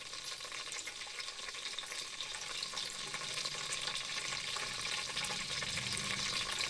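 Oil heating in a pan at home before onions go in for a chicken biryani, giving a steady, fairly faint frying sizzle with a broadband hiss that holds evenly throughout, with no talking.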